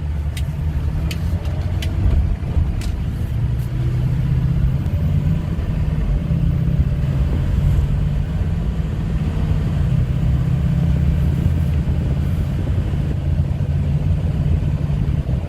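A 2007 Ford F-250 Lariat 4WD with the 6.0L Powerstroke diesel hums with a loud, steady low rumble from inside the cab while cruising on the highway at light throttle, with no talking.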